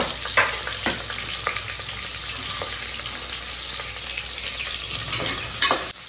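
Onions and green chillies fry for biryani in a pan, a continuous close sizzle broken by occasional scraping stirs and a louder clatter near the end.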